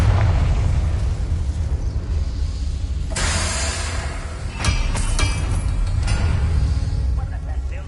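A Confringo blasting spell explodes in Hogwarts Legacy: a loud, broadband blast erupts over a steady rumbling bed, followed by a few sharp secondary bursts and crackles.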